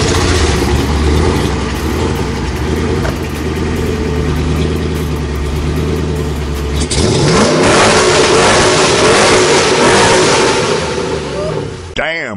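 A Jeep Gladiator with a supercharged 6.4 Hemi engine revs hard, first a steady rumbling idle, then a rising roar that climbs and falls through several throttle blips before cutting off, loud and close.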